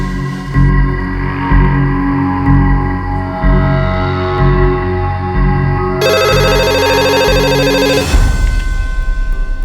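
A telephone rings loudly and close by, a sustained trilling bell tone that keeps repeating before cutting off abruptly, with no voices over it.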